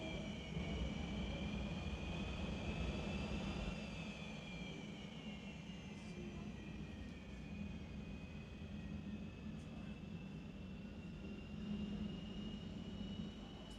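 Two jet funny car engines at a drag race, a steady, loud roar with a sustained high whine drifting in pitch, running continuously throughout.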